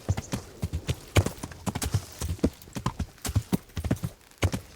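Horse hooves clip-clop in a steady, fast galloping rhythm across uneven ground in the medieval game Kingdom Come Deliverance, close and continuous throughout with no voices.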